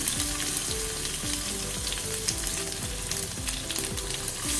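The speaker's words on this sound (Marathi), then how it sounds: "इथे आधी मिरची घालूया हिरवी बारीक चिरून" Finely chopped green chilli hits hot oil with vegetables in a pan for a wheat-flour mixed veg pancake: a loud, dense crackling sizzle with quick repeated spatula knocks throughout, no talking.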